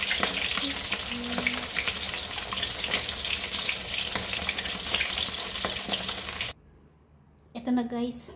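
Stingray fish pieces frying in hot oil, a steady dense sizzle running for several seconds before cutting out abruptly, with brief faint clatter afterward.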